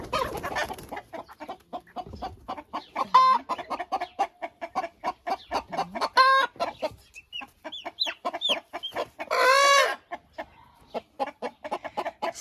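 Chickens cluck rapidly and continuously up close in a poultry enclosure at a dacha, with a rooster's crow rising twice among the clucking.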